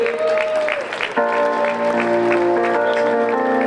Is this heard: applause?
yes